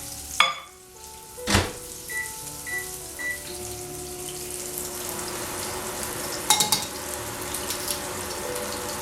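Butter melting in a pan on the stove gives a steady, close sizzle and fry that builds and holds, with a few sharp clinks and knocks of utensils at the start.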